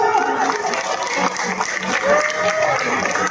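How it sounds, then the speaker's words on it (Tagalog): An audience claps for the president of a poor people's association at an orientation gathering, a broad steady burst of crowd applause lasting several seconds. "Palakpakan po ninyo!"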